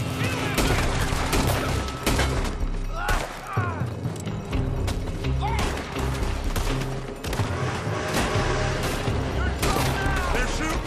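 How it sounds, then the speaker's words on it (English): Dense gunfire from the video game Red Dead Redemption 2 crackles throughout, with rapid overlapping shots and bursts ringing out over a busy game soundscape, voices occasionally calling beneath the shooting. "They're shooting from that building!"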